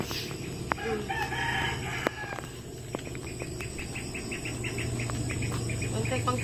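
A rooster crows repeatedly at a distance over steady insect chirring and low rural background hum, with no one speaking.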